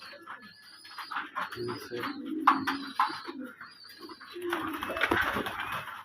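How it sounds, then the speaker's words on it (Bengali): Young pigeons coo and call softly at close range in a backyard loft, with soft rustling and faint voices in the background throughout. "এই যে বাচ্চা কবুতর"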